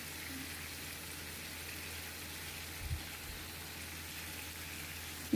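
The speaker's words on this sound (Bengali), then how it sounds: "যে মুরগিগুলো ভাজা হচ্ছে এপিট ওপিট ভেজে নিচ্ছে।" Chicken pieces frying in a pan with cloves, cardamom and cinnamon, a steady soft sizzle running throughout with a brief low thump midway.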